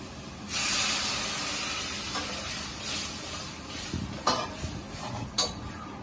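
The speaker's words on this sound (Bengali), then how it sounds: "জল দিয়ে দিচ্ছি।" Water poured into a hot pan of fish curry with potato and eggplant: a sudden loud steaming hiss that settles into a continuous bubbling sizzle, followed by a few metallic pan clinks near the end.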